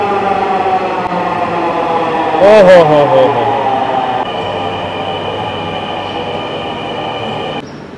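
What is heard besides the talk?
Dhaka metro train arriving at station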